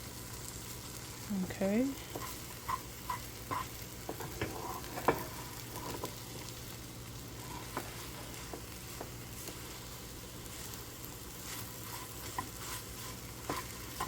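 Eggs frying in a pan as they are pushed around: a soft steady sizzle with scattered spatula scrapes and taps, fairly quiet, and a brief spoken word near the start.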